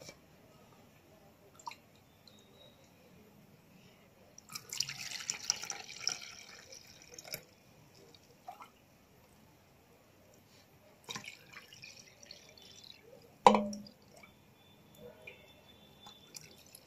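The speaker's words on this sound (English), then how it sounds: "Now I pour the juice." Juice pours and drips through a piece of curtain cloth used as a strainer into a cup, giving soft intermittent trickles and splashes with a few sharper drops in a quiet kitchen.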